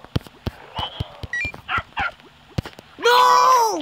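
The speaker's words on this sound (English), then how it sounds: "My dog is going crazy." A dog barks in sharp repeated bursts with whimpering yips between them, close and loud, ending in a sustained high whine or howl.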